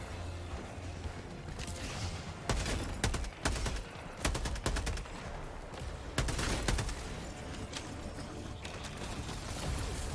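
Rapid, dense gunfire from the video game Helldivers, with sustained automatic bursts and sharp individual shots rattling continuously over a loud, busy battle din.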